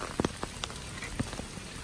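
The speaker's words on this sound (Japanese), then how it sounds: "雨強くなってきた、雨強くなってきた" Heavy rain patters steadily on a surface in a continuous wash, with a few louder drops hitting nearby, and no voices.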